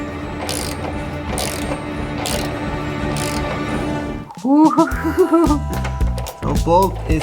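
Ratcheting clicks and metallic mechanism sounds as a bolt is driven up into the underside of a Land Rover Discovery 3, a steady close ratchet run giving way to uneven louder clanks and clicks.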